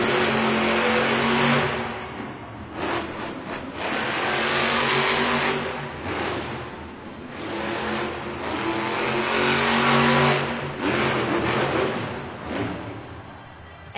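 A monster truck engine roars and revs in waves at a Monster Jam arena racing event in Austin, Texas, swelling loud several times over about fourteen seconds.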